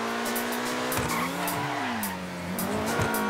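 An Audi R8 drives in GTA V Online with a steady engine drone, its pitch rising and dipping, while repeated tire squeals and skids come in short bursts, up close.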